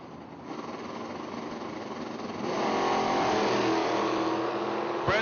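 A third-generation Camaro and an '86 S10 roar at a drag strip, with engine noise building and swelling louder midway. The sound is steady and fairly close, with a sharp pop just before the end.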